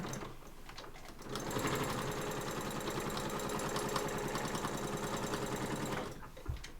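A sewing machine stitches fabric for a cross body bag, starting after a quiet moment into a fast, even mechanical whir with rapid needle chatter for several seconds before stopping, close and alone.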